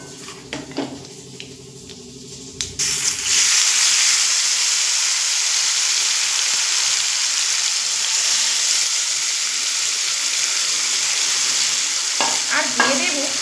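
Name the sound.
Mourala fish frying in hot oil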